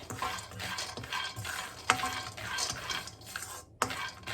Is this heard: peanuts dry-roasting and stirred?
yes